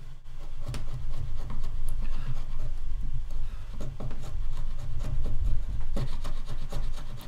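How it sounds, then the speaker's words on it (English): Chisel scraping old tape off a surface, a steady close rasping and rubbing that runs throughout with uneven strokes and small scratchy catches. "I'm just going to chisel this off a bit."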